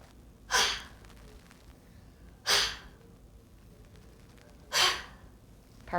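Three forceful huff coughs from a child with cystic fibrosis during airway clearance vest therapy, spaced about two seconds apart, each a short breathy burst with quiet pauses between.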